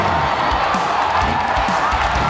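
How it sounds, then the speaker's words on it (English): Crowd cheering and whooping at a Monster Jam truck show, a loud, steady roar of many voices with scattered shouts and some clapping, sustained without a break. "And the crowd went"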